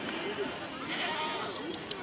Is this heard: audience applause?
no